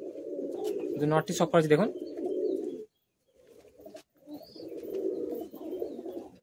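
Madrasi high flying pigeons cooing in a loft, soft rumbling coos close by with a short pause, while someone talks over them.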